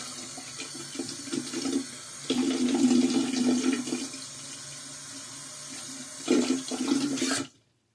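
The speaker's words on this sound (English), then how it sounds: "let me go ahead and wet my face" Water running from a bathroom sink tap while a face is wetted before a safety razor shave, a steady close splashing flow with surges of heavier splashing, ending abruptly.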